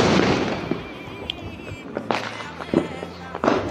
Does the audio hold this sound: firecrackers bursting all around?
yes